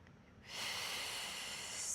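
One slow, close yoga breath is drawn audibly through the nose, starting after a brief quiet moment and continuing as a steady airy rush to the end.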